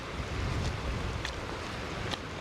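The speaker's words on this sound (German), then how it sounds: "Das ist ein reißender Fluss hier" A raging river torrent swollen after two days of steady rain roars continuously, with a dense, even rush of water and wind buffeting the microphone.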